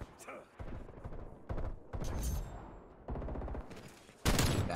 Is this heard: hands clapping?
no